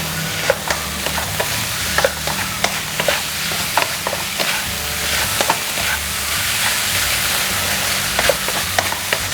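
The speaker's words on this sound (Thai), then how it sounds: "แล้วก็ผัดให้เข้ากันนะคะ" Shrimp tom yum fried rice is being stir-fried in a pan, with steady sizzling under repeated scraping and tapping of a spatula against the pan, and no talk.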